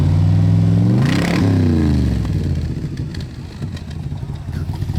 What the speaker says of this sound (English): It. Sounds really great too up in the upper RPM.